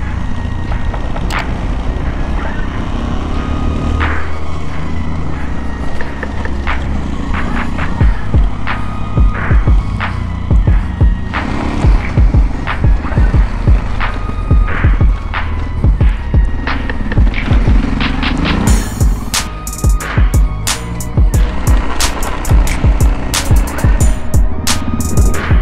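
A motorcycle on Anlas Capra X tires rolls along a gravel road, with a loud continuous engine throb, heavy wind buffeting and crunching tire rumble, and sharper rattles and knocks toward the end.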